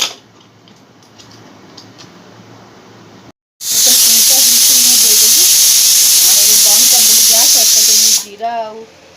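A pressure cooker cooking dalma releases steam in a loud, steady hiss that runs several seconds alone before cutting off, with a voice speaking faintly in the background.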